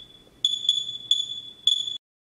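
A Geiger-Müller counter used for radiation measurement gives a steady faint high tone, then four loud, crisp electronic beeps at irregular intervals, close and alone.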